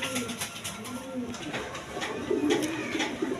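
Pigeons at a market stall coo in low, soft repeated calls close by, while someone talks over them.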